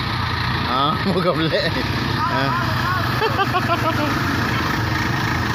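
A strange vehicle's engine runs steadily in floodwater in Kelantan, a constant loud drone heard close throughout while people talk over it.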